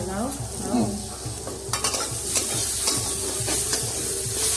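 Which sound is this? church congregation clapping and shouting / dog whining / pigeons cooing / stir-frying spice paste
stir-frying spice paste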